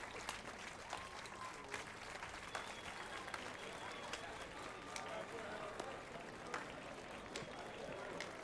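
In the video game The Witcher 3, Geralt claps in leather gloves, giving quiet, evenly spaced claps under a continuous murmur of voices and game ambience.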